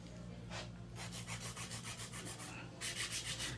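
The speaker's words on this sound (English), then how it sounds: "this is the 100-100 grit, but they're a little bit different from other filers" Hand filing of nails with a 100-grit nail file, a series of rhythmic rasping strokes with a brief pause, then a louder, brighter burst of quick strokes near the end, with a steady low hum underneath.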